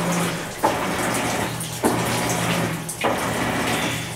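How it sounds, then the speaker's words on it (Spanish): Water pours steadily from an open tap, a continuous close splashing rush with a few brief dips in level and no talking over it. "¡Ay, el agua se me va a tirar! Dejé la llave abierta."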